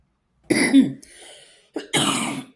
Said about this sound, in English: Sorry about my cough. It sounds worse than what it is.